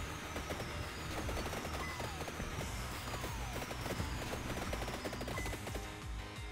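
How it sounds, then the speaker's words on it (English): In the video game Vampire Survivors, dense rapid-fire explosions and hit effects crackle continuously, a busy stream of sharp pops and bursts over game music at moderate level. "This is like just explosions everywhere."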